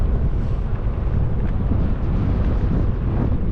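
Strong, steady wind roars and buffets the microphone during a bike tour in Iceland's Westfjords, a dense low rumble that runs unbroken with no voices.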